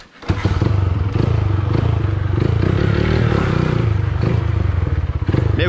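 A Honda CG trail motorcycle, just brought back to running, starts and idles with a loud, steady, slightly uneven engine drone and some clatter for several seconds.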